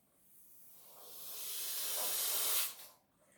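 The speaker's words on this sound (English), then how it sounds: "and now I am going to blow it." Air being blown hard into a balloon held fully inside a cup, a steady breathy rush that swells over about two and a half seconds and then cuts off abruptly, with no talking.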